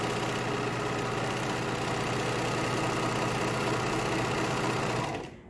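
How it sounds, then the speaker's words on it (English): A sewing machine running a lettuce edge on stretched knit fabric, a loud, steady mechanical whir with a fast even needle rhythm that holds for about five seconds and then stops abruptly. "Now I stretch my fabric as I sew,"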